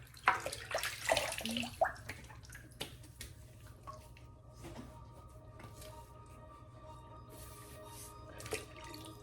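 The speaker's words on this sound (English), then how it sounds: "I got hot water in the sink" Hot water from a tap runs steadily into a bathroom sink, a continuous close wash of flowing water with a few sharper splashes and clinks near the start, then settling into an even pour.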